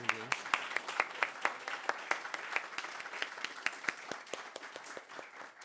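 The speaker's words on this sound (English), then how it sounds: "give like a huge round of applause to Mary and Christina" An audience at a poetry reading claps in a steady, lively round of applause, individual hand claps crisp and fairly close, sustained throughout with no voices on top.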